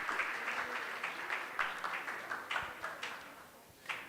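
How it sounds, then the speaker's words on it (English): A modest audience at a conference gives a steady round of applause for a speaker, with a few sharper claps standing out toward the end. "Mashallah, give her a round of applause."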